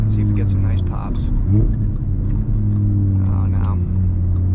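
A loud Audi RS3 on a snowy winter blizzard drive gives a deep, steady engine and exhaust drone that holds throughout, with a person talking over it; no distinct pops stand out.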